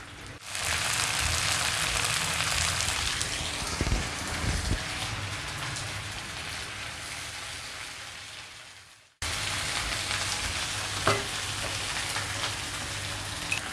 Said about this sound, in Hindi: हम फ्लेम को थोड़ा हाई करके इसका तमाम मसाला जो है वो सुखा लेंगे।